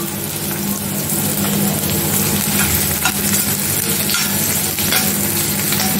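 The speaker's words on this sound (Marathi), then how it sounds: "बारीक चिरून घेतलाय आणि तो लाल होईपर्यंत मी परतून घेते." Finely chopped onion sizzles loudly and constantly in a hot pan as it is fried, with faint stirring scrapes under the steady crackle.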